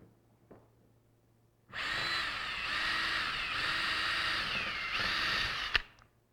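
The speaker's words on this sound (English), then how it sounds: "we'll go ahead and drill this middle hole." A power drill bores a hole through a Kydex sheath, running as a steady high whine for about four seconds after a brief quiet start and then cutting off abruptly. It sounds close and loud, with no talk over it.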